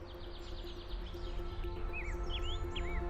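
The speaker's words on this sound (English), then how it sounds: "The sound of birds singing blends with the flapping wings of a flock of wild ducks searching for food" At dawn in the Masai Mara, beside the Mara River forest, faint birds chirp and whistle in short sliding calls over a low steady ambient rumble, growing a little busier toward the end.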